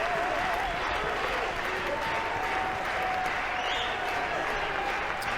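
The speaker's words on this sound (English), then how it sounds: "up on their feet, trying to get a strikeout here, clapping their hands" South Carolina Gamecock fans at a college baseball game clap steadily in a broad, continuous wash of applause while hoping for a strikeout, with faint crowd murmur underneath.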